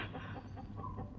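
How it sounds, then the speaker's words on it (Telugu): A flock of chickens clucks in a quiet, steady mingled chatter, faint and somewhat distant, with no voices over it. "అవిగో కోళ్ళు."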